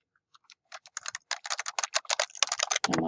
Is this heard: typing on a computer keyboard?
yes